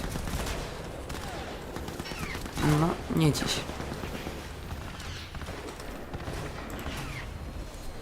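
Automatic turret fire in Crysis 3 rattles steadily throughout, with someone briefly speaking over it partway through.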